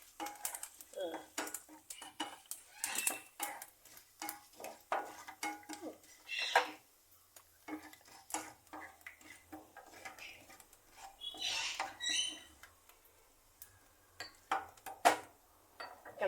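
Roasted rice being scooped out of a pan, with scraping and clinking of a metal spoon against the pan in irregular bursts and a faint sizzle between strokes.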